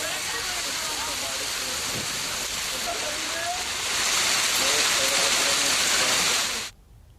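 Heavy unseasonal rain pours down in Singrauli, a dense, steady hiss that swells louder midway and then cuts off abruptly near the end.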